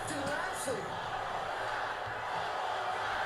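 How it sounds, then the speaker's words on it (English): A virtual arena crowd in the WWE 2K22 wrestling video game keeps up a steady, distant roar of cheering, with no break throughout. "And the crowd here asking me to do it one more time."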